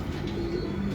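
Pigeons coo softly in a brief low murmur, close and steady, with no voices.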